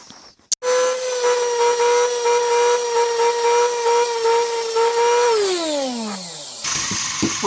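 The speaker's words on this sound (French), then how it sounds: "Donc on va poncer." A power sander runs steadily on a surface being prepared for paint, a sustained whining drone that starts abruptly, holds level for several seconds, then winds down in pitch before a rougher scraping close.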